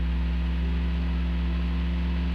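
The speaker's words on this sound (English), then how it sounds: "Your car sounds like a robot car" A car engine in Crazy Roads gives off a steady, synthetic, robot-like electric hum with fixed tones, constant and unchanging, alone without any voices.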